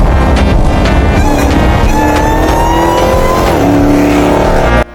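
A modified supercharged Dodge Challenger SRT Hellcat in Japan revs loudly up close, its engine note climbing steadily in pitch over several seconds before cutting off abruptly at the end.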